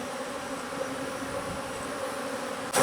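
A swarm of bees hums in a continuous, thick buzz at a constant level, close but quiet, until a sudden louder bump at the very end.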